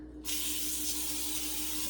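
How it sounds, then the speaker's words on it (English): Pam cooking spray released from an aerosol can onto parchment paper, a sudden, loud, continuous close hiss that starts abruptly and holds steady. "I'm going to even take a little spray, I think, of some Pam to put on the parchment paper"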